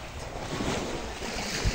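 Sea waves at Tagok beach in Bolisong make a continuous wash of surf, loud and broad, mixed with gusting wind buffeting the microphone.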